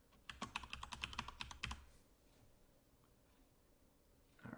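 Rapid burst of keystrokes on a computer keyboard while entering a password at a desk, close and crisp for about two seconds, then near silence before a faint rustle at the end.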